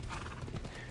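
Horse hooves clopping in Assassin's Creed Odyssey, with a neigh blended into a dense, steady wash of game sound. No voices are present.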